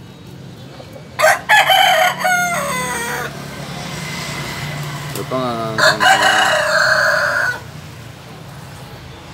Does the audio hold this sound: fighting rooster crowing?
yes